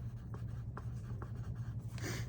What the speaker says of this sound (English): I pick up my pencil and write my name